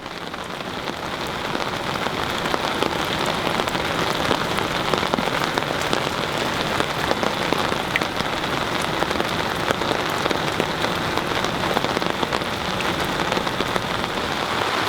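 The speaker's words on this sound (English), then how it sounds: "Final morning, it's pouring rain out" Heavy rain pours steadily in the wilderness on a river trip, a dense, even hiss of drops drumming on surfaces, close and constant throughout with no voices.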